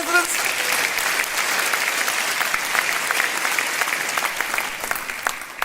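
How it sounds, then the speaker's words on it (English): Sustained crowd applause at a Reform UK political rally in Norfolk, steady dense clapping at fairly close range that holds for the full stretch, with scattered cheers mixed in. "Round of applause for our residents."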